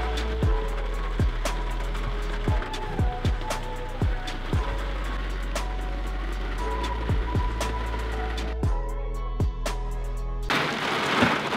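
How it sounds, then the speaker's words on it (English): Heavy rain from inside a parked truck along an upstate highway during a storm, a steady dense patter on the roof and windows with sharp repeated knocks from large drops, an idling drone underneath, close and continuous. "Raining."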